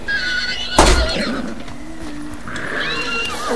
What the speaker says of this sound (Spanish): ¿Se escucha un caballo ahí?